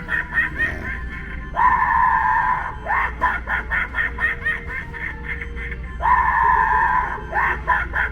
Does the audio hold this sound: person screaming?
yes